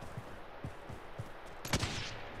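Several faint, muffled gunshots pop at irregular intervals in Call of Duty: Warzone, followed by a louder, sharper burst of fire, like distant shooting.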